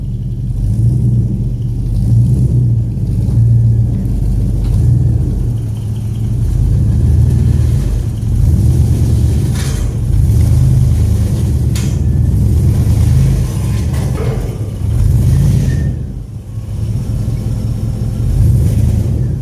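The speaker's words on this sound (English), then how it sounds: "Don't mind that terrible scraping sound. I still haven't fixed my exhaust," A Chevrolet Bel Air with an LS engine and a damaged exhaust rumbles loudly as it is pulled into a garage, a steady low engine drone with rough scraping grit throughout.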